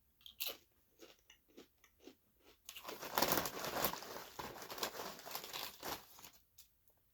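Doritos Tangy Ketchup chips are bitten and crunched up close: several sharp bag-rustling crackles and bites, then a dense burst of loud crunchy chewing that fades into softer chomps.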